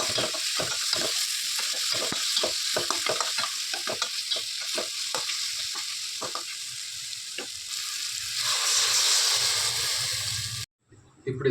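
Salt, chili powder, coriander and cumin being stirred into upma in a pan, with loud scraping strokes over a steady sizzle and a bubbling simmer toward the end.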